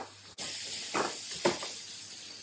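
Onions hitting warm oil in a pan for shakshuka, a sudden onset into a steady hiss with a couple of brief louder crackling bursts, close and alone.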